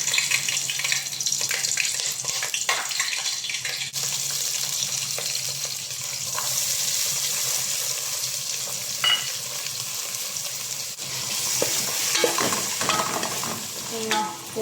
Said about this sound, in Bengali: তেলটা গরম হলে আমি এর মধ্যে দিয়ে দেবো কাটা পেঁয়াজ আর গ্রিন চিলি